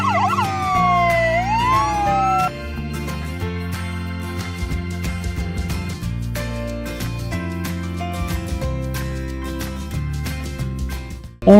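A yellow toy ambulance sets off its siren with a quick falling and rising wail at the start, then bright toy music carries on for several seconds, loud and close.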